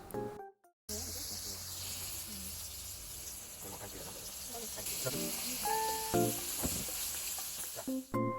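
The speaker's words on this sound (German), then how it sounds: "Als nächstes braten wir das Fleisch." Chicken meat for Korean fried chicken frying in a pan, giving a steady bright sizzling hiss that runs throughout, broken briefly near the start and joined by a few short tonal beeps later.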